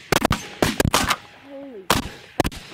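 Shotguns fire at ducks over a corn field during a waterfowl hunt, with two loud, close bursts of rapid blasts separated by a short pause and a faint bird call in the gap.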